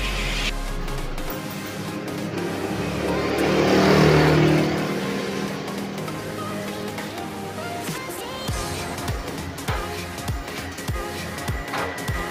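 Honda Wave 100 motorcycle being brought in, its small engine running close by, rising in a swell of revving before settling into an uneven idle with sputtering pulses.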